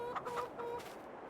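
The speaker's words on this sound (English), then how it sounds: "so see, check on our chickens" Farming Simulator 22 chickens cluck in a short burst of several quick, moderately quiet calls, with no talking over them.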